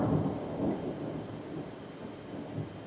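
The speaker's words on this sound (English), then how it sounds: "That was thunder. Can you hear that?" Low thunder rolls and rumbles through steady rain, a continuous dull roar with no voices over it.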